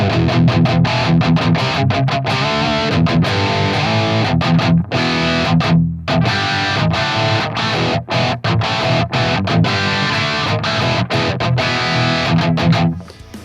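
Distorted electric guitar played through an Axe-Fx III cab block with only the SM57 impulse response, bright and dense with continuous chugging riffs, loud and alone with a brief pause near the middle.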